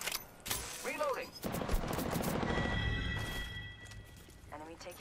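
Gunfire in Apex Legends, with rapid bursts of automatic fire and mechanical weapon clatter running through most of the stretch, mixed with game character voice lines and a player talking.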